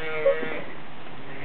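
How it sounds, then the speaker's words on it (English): A single short sheep bleat rises faintly over a quiet outdoor background, brief and a little distant. "There's a lot of sheep noises here."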